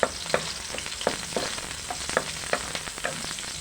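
Chopped onions sizzle and crackle in a hot pan for lumpia toque filling, with repeated spoon-stirring scrapes in an irregular rhythm, close and moderately loud.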